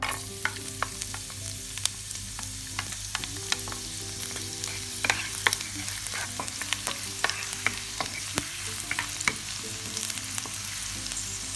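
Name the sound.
garlic frying in a pan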